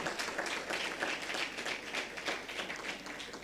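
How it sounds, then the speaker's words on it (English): Audience applause at the JTA Roll of Honour 2021 ceremony for a performer: fairly quiet, steady hall clapping from a crowd, sustained for several seconds with no speech over it. "Give her another round of applause."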